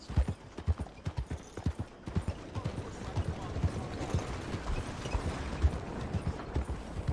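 Horse hooves clip-clop in steady rhythm on a street in Red Dead Redemption 2, set in Saint Denis, loud and close throughout, with voices talking over the hoofbeats.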